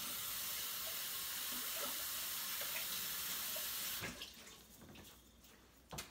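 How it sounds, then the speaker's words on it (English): Running tap water splashes over hands at a kitchen sink during cooking, a steady loud broadband rush for about four seconds, then stops, leaving faint clatter and a brief splash near the end. "let me wash my hands again"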